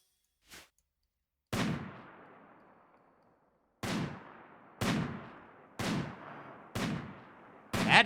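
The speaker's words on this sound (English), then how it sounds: "Oh, I already hear gunshots." Six sharp gunshots in the video game RimWorld ring out with uneven gaps, each leaving a long echoing tail, the first faint and distant, the rest loud and close.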